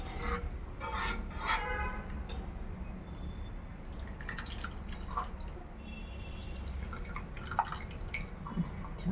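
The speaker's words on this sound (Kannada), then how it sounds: "ಸಾಂಬಾರು ಬಾಯ್ಲ್ ಆಗ್ತಾ ಇದೆ." Sambar simmering in a pot on the stove: steady bubbling and soft popping with scattered wet drips and plops, close and continuous, with no voices.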